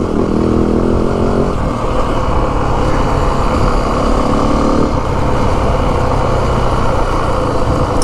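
A 2025 Yamaha WR 450F dirt bike engine drones loud and close throughout a trail test ride, a continuous buzzing roar with slight shifts in pitch as the throttle varies.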